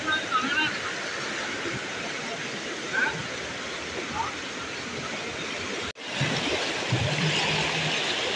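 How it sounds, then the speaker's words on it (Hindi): Floodwater rushing over a bridge after heavy rain during a cyclone in Kerala, a loud, constant roar of churning water close by, with a brief drop-out partway through. "ब्रिज रे भी पानी पूरा ओभरफ्लो हो जाउछि"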